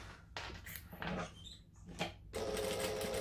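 A sewing machine stitching a clutch bag panel with a quarter-inch seam, running in short separate bursts with pauses and squeaks between, then settling into a steady close whir at the end.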